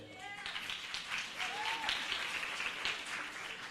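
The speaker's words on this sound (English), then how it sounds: "We just clap right after I speak." Steady applause from a crowd at a high school graduation ceremony, with voices murmuring and a few cheers mixed in underneath.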